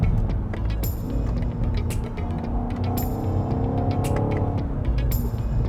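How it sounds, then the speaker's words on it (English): A 2023 BMW XM 4.4 M xDrive V8 accelerates hard on an expressway, its engine note rising in a steady, fairly loud roar, with brief sharp ticks and road noise layered over the cabin hum. "All 644 brake horsepower, 800 Newton meters of torque, and now the engine has opened up"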